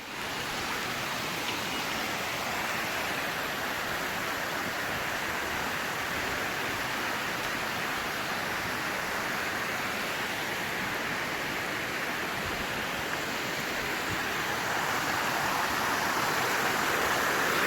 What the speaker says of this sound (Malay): Disinilah air terjun 7 bidadari